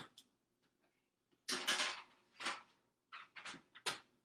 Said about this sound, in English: I'm going to just pop it into the oven right now